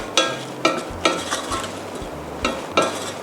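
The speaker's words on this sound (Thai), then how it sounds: "คลุกเคล้าให้เข้ากันเบามือนะคะ" Beef salad with onion and tomato being gently tossed in a bowl, soft rhythmic scoops and light clinks of a utensil repeating about every half second, close and quiet.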